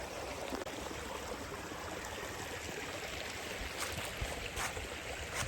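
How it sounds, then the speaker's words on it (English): A small creek flows around a rural property, its water making a steady, soft, even rush that holds constant throughout, with no voices. "This creek runs all the way around our property."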